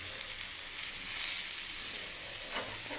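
Pineapple slices frying in a pan on a gas stove, giving a steady, close hiss of sizzling oil with a faint scrape near the end and no voices.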